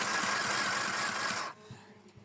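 A portable sewing machine runs with a loud, even whirring hum for about a second and a half, then cuts off, leaving faint clicks and handling sounds.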